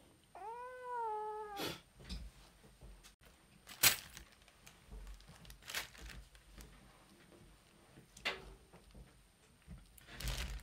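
A house cat gives one clear drawn-out meow close by at a workbench during a Game Boy repair, followed by scattered clicks, taps and handling noises.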